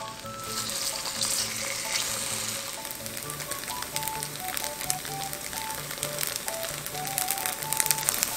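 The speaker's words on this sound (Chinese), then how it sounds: "我们就要准备一个平底锅，然后把它煎到金黄酥脆" Steady, crackling sizzle of firm tofu strips pan-frying in a flat skillet until golden and crisp, continuous and close, with a faint tonal hum underneath.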